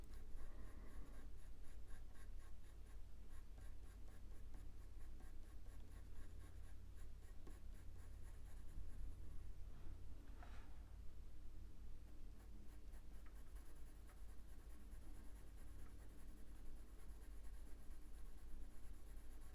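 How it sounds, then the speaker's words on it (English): A pencil shades back and forth on paper at steady pressure while a Cavalier King Charles spaniel is drawn, giving a soft, continuous scratchy rustle with a rapid regular rhythm, close and quiet, with no talk. "I'm just going back and forth with the pencil, but I'm keeping the same pressure."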